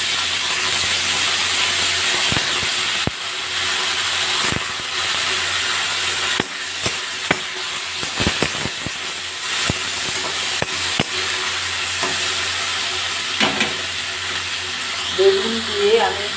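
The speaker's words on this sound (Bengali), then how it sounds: "বেগুন দিয়ে আমি একটুখানি ভাজা ভাজা করবো" Eggplant and bitter gourd frying together in a pan, a constant sizzle broken by sharp clicks and scrapes of a spatula stirring, with a brief voice near the end.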